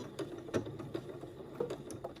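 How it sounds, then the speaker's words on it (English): A home sewing machine back stitches a short seam on a beginner baby bonnet, giving a soft, steady mechanical patter of needle strokes at close range with no voices. "and I'm going to back stitch"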